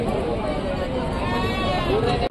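Goats and young kids bleat in a crowded animal market, their wavering cries rising over a dense hubbub of voices and background crowd noise throughout.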